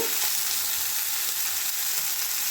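Spinach chachchari fries in a pan with very little oil, giving a steady, close, continuous sizzle with no talking.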